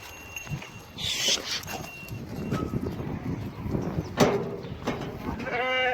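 Sheep bleat close by amid rustling and shuffling noise, with calls rising over a busy outdoor background at a sheep pen where Kangal puppies are kept.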